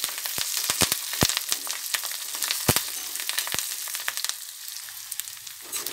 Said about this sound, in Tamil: வெங்காயம் ஓரளவு ஒரு பாதி வதங்கினோடனே கருவேப்பிலையும் போட்டுடலாம்.